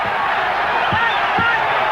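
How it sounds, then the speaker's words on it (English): A boxing crowd on its feet during a fight, a dense, loud roar of cheering that holds steady throughout, with a few dull thuds cutting through the noise. "Look, crowd on their feet here."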